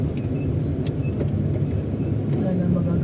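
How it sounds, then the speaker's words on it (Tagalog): Road traffic heard from inside a car stuck in a jam: a steady low engine and road rumble with occasional faint clicks, and people talking in the cabin. "Traffic na naman."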